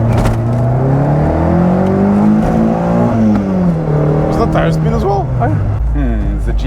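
A BMW M3 engine pulls hard through the gears from inside the car, its loud, close drone climbing in pitch, then dropping and rising again as each smooth shift comes through.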